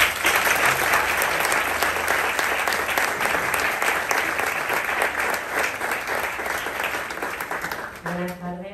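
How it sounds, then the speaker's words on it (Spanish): Audience at a college academic year opening ceremony gives a loud, sustained round of applause for the guest speaker, dense clapping filling the room for several seconds before tapering off near the end. "Le damos un fuerte aplauso, por favor"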